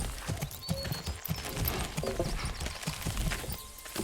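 An ox hauls timber in the Manor Lords medieval village-building game, with rhythmic hoof clops and animal calls set over a dense game soundscape of ambient village noise.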